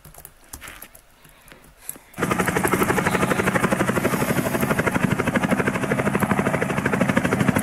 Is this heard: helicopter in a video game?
yes